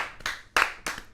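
A few sharp, separate handclaps from a small audience greeting Travis Spencer on a podcast, close and dry, spaced about a third of a second apart with quiet between them.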